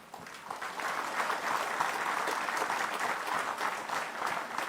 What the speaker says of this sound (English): I ask you to applaud yourself